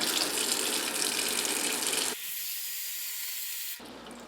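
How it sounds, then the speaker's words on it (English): Cold tap water pours steadily into a pot holding eggs, a loud continuous gush that drops to a softer, thinner stream partway through and then eases further near the end. "you're going to fill it with cold water to about an inch above the eggs so that it cooks properly."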